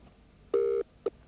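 A telephone ringing tone sounds as a short steady electronic burst followed by a brief second pulse, close and clear with no talk over it.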